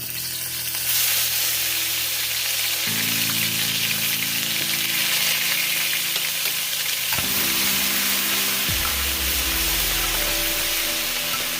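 Garlic sizzles loudly in a hot wok over high heat for a beef and shrimp stir fry, a steady crackling fry with stirring scrapes running throughout, no voices.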